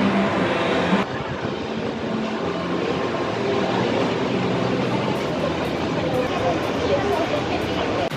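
A train stands at a station with its doors briefly open, giving a steady loud rumble of rail cars and machinery that continues throughout, with voices mixed in.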